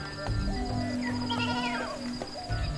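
Herders' goats or sheep bleat in the arid hills around Bera, Rajasthan, with several wavering calls overlapping at moderate distance over a low background hum, and no talking.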